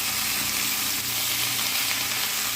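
Bottle gourd frying in a pan for a Bengali vegetarian dish, a steady loud sizzle with a soft stirring rustle running through it.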